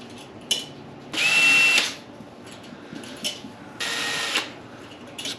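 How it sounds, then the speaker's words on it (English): A power drill backs out bicycle wheel spokes in two whirring bursts of roughly a second each, close and loud, with small clicks and handling noises between them and no talking. "I'm gonna hold it and just drill until it comes out"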